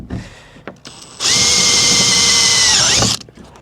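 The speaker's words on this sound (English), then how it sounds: "So this is the hole we're drilling out for, so we got to go a little larger still." Power drill boring out a hole in the roof of a box truck, a loud steady whine running about two seconds after a few short quieter bursts, then winding down.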